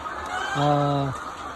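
A single drawn-out hen cluck or squawk from a poultry egg farm, tonal and fairly near, lasting about half a second over quiet background.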